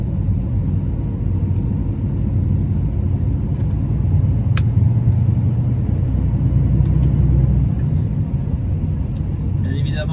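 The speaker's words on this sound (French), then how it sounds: "il y a une voiture qui a bien dû frôler à droite" A car passes close by on the right of a truck crossing the Monts d'Arrée in Brittany, heard as a steady loud road rumble and engine drone inside the cab, with voices talking over it.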